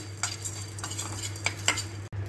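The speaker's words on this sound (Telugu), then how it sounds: "ఒక పెద్ద స్పూన్ మిరియాలు, ఒక 3-4 లవంగాలు, ఒక బిర్యానీ ఆకు. ఇవన్నీ మాడకుండా దోరగా వేయించుకోవాలి." Peppercorns, cloves and a bay leaf are dry-roasted in a pan, giving a soft continuous sizzle broken by scraping spoon strokes and light metallic clinks, with a low steady hum underneath.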